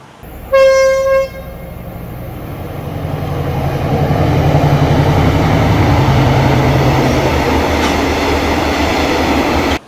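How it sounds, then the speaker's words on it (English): A train horn sounds once near the start, then a train rumbles past, its noise swelling and holding steady to the end. "they will not extend as soon as they hear the train"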